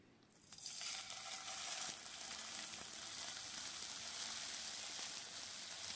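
Ginger paste hits hot ghee already tempered with cardamom, cinnamon and cloves, bursting into a steady, bright sizzle after a brief quiet start and holding evenly close by, with no one speaking.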